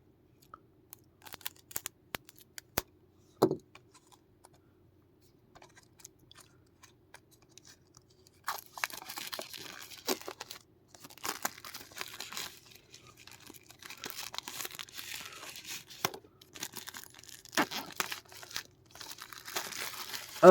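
Plastic wrap crinkles and tears as a Mulan 4K steelbook Blu-ray is opened. Sparse crackles and a sharp snap come first, then denser rustling and crumpling bursts at close range.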